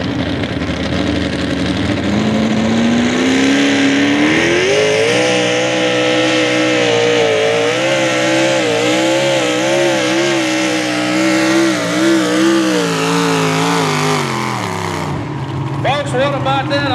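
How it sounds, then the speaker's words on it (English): A pulling tractor at a tractor pull roars loudly and continuously, its engine pitch climbing early on and then holding high and wavering before it cuts off abruptly near the end. "Joe Armstrong working on keeping that tractor in the track."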